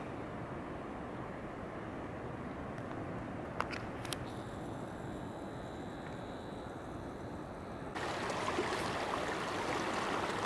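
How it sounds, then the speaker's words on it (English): A mountain creek rushes steadily at a trail crossing at 10,300 feet, a constant broad wash of water with a faint distant aircraft drone and a brief louder surge near the end. "Pretty cool little creek crossing"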